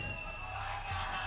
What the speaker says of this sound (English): A lot of excitement in the crowd for these teams